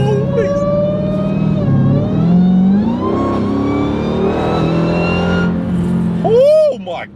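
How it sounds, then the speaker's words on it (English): A 1000 hp Dodge Hellcat fitted with a Legmaker intake, driven along with a loud engine drone and a rising supercharger whine that swells and fades as the car accelerates. "Oh my goodness, that supercharger sounds good."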